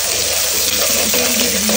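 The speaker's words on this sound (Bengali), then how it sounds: "এই যে আমার বিফ রান্না করা শুরু করে দিয়েছি" Beef for shami kabab stuffing fries in a pan, giving a loud, close, steady hissing sizzle that runs the whole time without a break.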